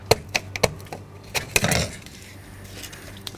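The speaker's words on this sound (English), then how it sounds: "we're going to take a very sharp knife, and we're going to cut a 7-inch section" A very sharp knife cutting a section of plumbing pipe for a miniature aquaponics setup, several sharp close clicks and taps followed by a brief rasping cut, then quiet.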